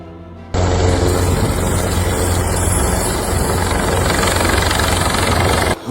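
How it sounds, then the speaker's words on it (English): A Coast Guard helicopter flies over volcanic eruption damage in Hawaii: steady, loud rotor chop and engine roar that cuts in abruptly after a quieter start and holds constant, close and alone. "With the view from a Coast Guard helicopter"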